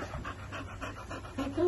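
Close, rhythmic panting from a dog, short quick breaths repeating evenly and growing slightly louder at the end.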